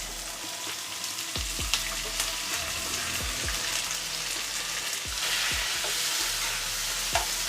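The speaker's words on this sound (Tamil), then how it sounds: "இதெல்லாம் வந்து கொஞ்சம் நல்லா வதங்கட்டும்." Onion, tomato, chili and curry leaves sauté in a pan for chicken kulambu, a steady close sizzle with repeated spoon scrapes and stirring knocks throughout.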